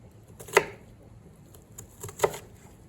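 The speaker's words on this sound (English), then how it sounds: "Just cut it in half and then slice it some more" Two separate knife strokes cut onions on a cutting board, each a brief crisp chop with quiet pauses between.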